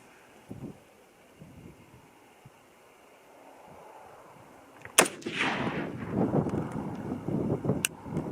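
A 6.5 Creedmoor rifle firing bonded hunting loads on an outdoor range lets off a single sharp, loud gunshot midway through after quiet wind noise, followed by a rolling echo and a second faint crack near the end.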